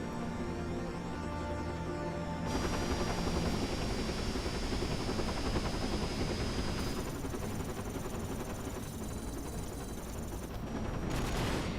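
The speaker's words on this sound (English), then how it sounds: "the iconic helicopter boss fight that every single PS2 game has" A helicopter boss fight from the game Dirge of Cerberus: Final Fantasy VII: loud, dense rotor drone with rapid gunfire and explosions layered continuously throughout, no pauses.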